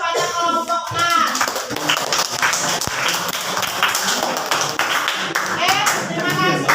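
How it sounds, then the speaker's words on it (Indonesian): Steady applause fills a high school classroom as students clap for a student group after its presentation, with voices talking over the clapping at the start and end. "beri aplaus kepada kelompok 6"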